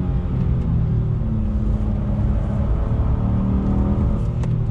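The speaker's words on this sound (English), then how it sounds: "I want to do an acceleration test from a dead stop. On throttle, here we go. Smooth shifts from the 9-speed." A 2021 Honda Ridgeline HPD truck with a nine-speed transmission accelerates from a dead stop, its engine a steady, loud low rumble and whir heard from inside the cabin, with no voices.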